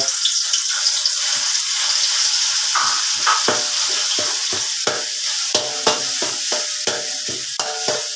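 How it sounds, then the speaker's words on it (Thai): Red curry chili paste, premixed with spices, stir-fried in hot lemongrass oil for a fried tilapia sauce: a steady close sizzle with repeated scraping strokes of the spatula, the clicks and scrapes coming faster toward the end. "มาท่านผู้ชมผัดพริกราดปลากัน น้ำมันตะไครร้อนนะ"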